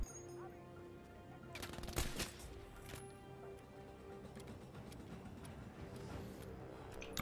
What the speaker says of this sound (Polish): już się zaczyna ostrzał